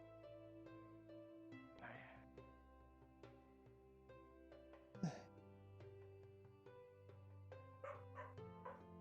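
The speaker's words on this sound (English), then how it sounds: "The puppy is barking." A puppy gives a few short, faint yips and barks over quiet background music, with brief whimpering sounds between them.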